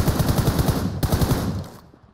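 Automatic weapon fire in the mobile battle-royale game PUBG Mobile: loud, rapid bursts of shots in a fast rhythm, a brief break near one second, then more bursts that trail off into quiet.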